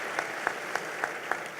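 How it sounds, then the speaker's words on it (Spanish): Brief, faint applause rises at a Guatemalan citizens' debate forum as a speaker is introduced, with a few distinct claps standing out in a regular rhythm over a soft wash for under two seconds. "un aplauso para Paola Hurtado"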